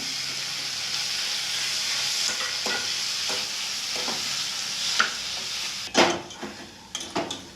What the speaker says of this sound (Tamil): ஒரு பெரிய வெங்காயத்துக்கு ரெண்டு தக்காளி தக்காளி போட்டு வதக்கிறீங்க